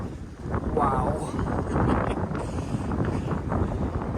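Gusty wind buffeting a microphone on a clear day along the Appalachian Trail, a steady low rumble with rushing swells throughout, heard up close, with a person speaking over it.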